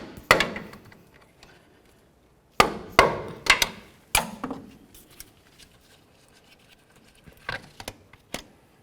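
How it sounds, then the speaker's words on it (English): Sharp metallic hammer strikes on a pry bar against a tie rod boot clamp on a 2004-08 Ford F-150 ring out in quick clusters, a few hits at a time with pauses between, close and loud. "I like to use a nice pry bar like this and a hammer"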